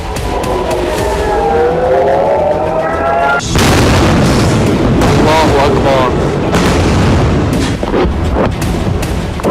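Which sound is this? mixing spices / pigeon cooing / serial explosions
serial explosions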